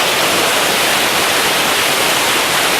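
A powerful waterfall near Crummock Water in the Lake District, swollen by heavy rain, roars as a dense, loud, unbroken wall of rushing water heard up close, with no voices over it.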